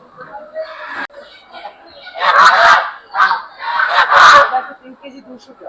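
Geese honking loudly at a rainy-day poultry market in Gollamari, Khulna, with several harsh honk bursts close by, mixed with people talking nearby.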